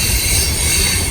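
A CN tank train with manifest traffic rolls past near Montreal, a loud steady rumble of railcars with a high metallic wheel squeal.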